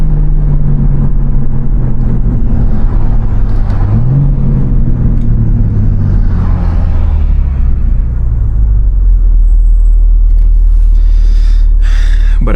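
A BMW M3 Competition drives on a public street, its engine a loud, steady low rumble that swells in pitch as it accelerates, with continuous road noise throughout and no talking.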